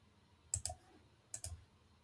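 Computer mouse clicking a save button in SharePoint, two quick close double-clicks about a second apart against a quiet background.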